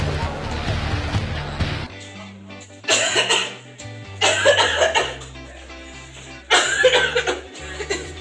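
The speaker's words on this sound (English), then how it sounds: "You still coughing." A few harsh, loud coughing fits close to the microphone at a basketball game, spaced a couple of seconds apart, with a low hum in between.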